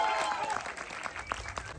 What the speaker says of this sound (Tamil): திருமதி கலைவாணி சங்கருக்கும் பெரிய பெரிய கைத்தட்டல் நம்ம இந்த இடத்துல கொடுத்துடலாம்.